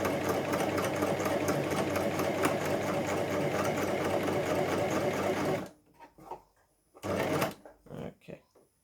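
Coverstitch sewing machine running steadily with its stitch length set to 4, a loud continuous mechanical whir that stops suddenly, followed by a person talking and a short burst of the machine running again.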